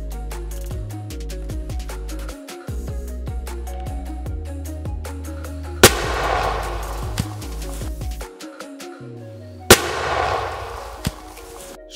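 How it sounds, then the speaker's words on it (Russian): A firecracker bound in 500 rubber bands bursts with two sharp, loud blasts several seconds apart, each followed by a brief crackling decay, over steady background music. "поджигаем фитиль нашей петарды с 500 резинок"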